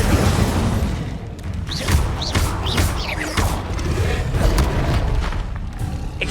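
Repeated whooshing bursts and rumbling booms from the Incendio fire spell in Hogwarts Legacy, several loud close blasts in irregular succession over a constant low roar of combat.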